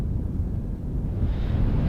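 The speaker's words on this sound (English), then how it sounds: "The headwinds the last few days have been outrageous." Strong headwind roars across a microphone while cycling through Death Valley, a steady, loud low buffeting rumble with no let-up and no voices.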